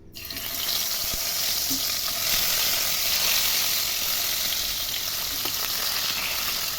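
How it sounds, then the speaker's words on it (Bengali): Fish frying in hot mustard oil in a wok, a loud, steady sizzle and crackle that holds close and continuous throughout with no talking. "এই দেখুন, কড়াইয়ে তেল চাপিয়ে দিয়েছি। তেল কিন্তু গরম হয়ে গেছে। আমি কড়াই দিয়েছি সর্ষের তেল। এবার আমি মাছগুলোকে ভেজে নেব।"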